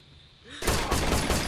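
Gunfire in the video game Rainbow Six Vegas 2, a loud rapid burst of shots erupting after a quiet moment and continuing steadily to the end.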